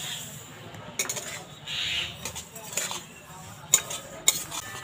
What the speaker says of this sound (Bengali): এখন এই তিলগুলো একটু ভেজে নেব